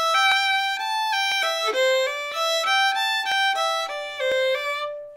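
A fiddle plays a phrase from the tune Billy in the Lowground, quick bowed notes in a steady lilting rhythm, bright and close, alone without talk.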